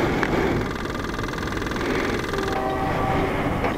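A train rumbles past a railroad crossing, heard from a motorcycle rider's position as a loud continuous roar and rattle of rail cars with a brief tonal horn-like note near the end.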